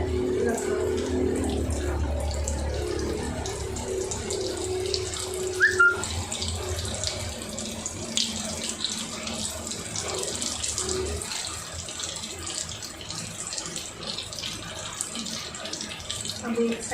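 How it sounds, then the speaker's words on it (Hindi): Spinach and chickpea snacks sizzling steadily in hot oil in a home kitchen, a continuous soft frying hiss with someone talking over it. "ऑयल गरम हो चुके हैं। अभी मैं करूँगी धीरे धीरे इसमें फ्राई होने के लिए रखूँगी।"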